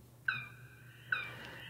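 A cat in the Stardew Valley video game meowing when petted, two short, clear mews about a second apart over a faint low background hum.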